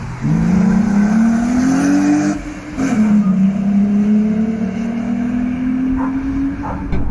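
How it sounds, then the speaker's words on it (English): A Volkswagen Golf R DSG engine drives by loudly and close, with a steady droning note that rises, dips briefly near the middle, then holds a sustained pull with no talking. "have a listen to that car, because I'm not joking, they are one of the best sounding cars on the road"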